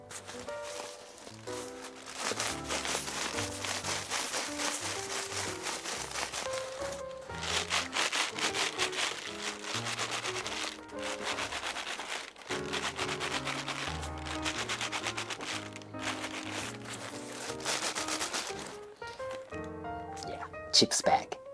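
A Thermarest NeoAir XLite inflatable sleeping pad, the previous model, crinkles and rustles steadily throughout, a dense papery scrunching close by, partly under background music.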